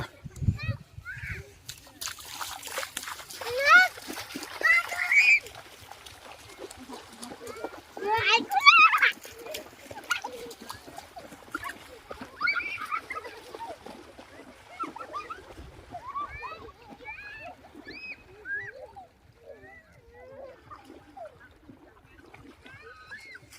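People play in the Mekong River at dusk, water splashing and sloshing in bursts, loudest early on, with lively voices and children talking throughout.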